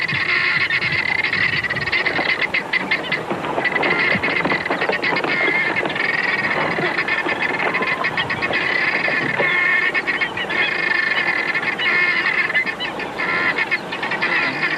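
A dense flock of birds calls at an African waterhole, a loud, continuous clamour of honking and chattering cries with wingbeats, filling the whole stretch.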